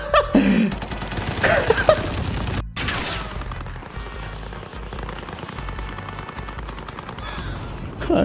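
Rapid automatic gunfire fills a Call of Duty Warzone match, sustained bursts of rattling shots near and loud, with a brief gap midway before more firing continues.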